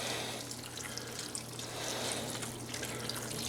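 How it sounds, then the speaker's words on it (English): A thin stream of juice trickles and splashes steadily over a spiral ham, quiet and close, with faint background hum. "I'm going to pour the rest of this juice on"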